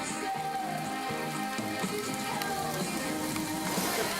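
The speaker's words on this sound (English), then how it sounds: "Oh boy, wind's picking up. 35-mile gust. Rain's picking up." Heavy rain and gusting wind at about 5,000 feet on Standing Indian Mountain in North Carolina, forming a dense, constant roar of driving rain and buffeting wind close around the listener.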